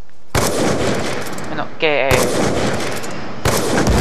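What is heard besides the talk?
gunfire in the video game Call of Duty Black Ops 2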